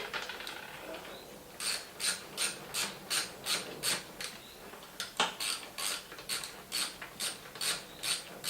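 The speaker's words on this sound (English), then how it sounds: "You just need your Allen key in there. We'll whiz those out." A captive nut being undone with an Allen key while fitting pipes and silencers on a Norman Hyde T100 motorcycle: a steady run of about a dozen close, evenly spaced metallic ratcheting clicks with no talk.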